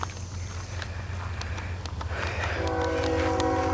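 A CSX freight train rumbles through a road crossing in Fostoria, Ohio, with a low steady drone, and its horn starts partway through and sounds loud and sustained over the rumble.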